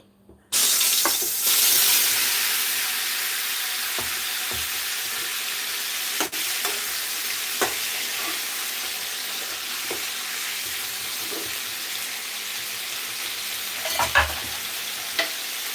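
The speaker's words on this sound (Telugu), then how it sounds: "నెక్స్ట్ దీంట్లో మనం కట్ చేసిన టమాటోస్ని వేసుకుందాం" Chopped tomatoes land in a pan of frying mint, bursting into a loud, steady sizzle with occasional scraping stir strokes and clinks, heard up close without any speech.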